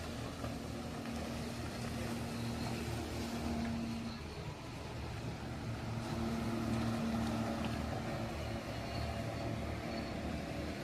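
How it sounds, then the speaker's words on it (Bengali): A speedboat engine drones steadily on the Alleppey backwaters in Kerala, a moderately loud motor hum holding through the whole stretch with wind and water wash, and no clear talk. "এই হলো স্পিড বোট।"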